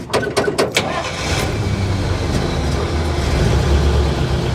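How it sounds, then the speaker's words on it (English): A 1953 Pontiac Chieftain cranks in a few quick bursts, then catches and settles into a steady low idle rumble close to the microphone, with no one talking. "She fired right up, man."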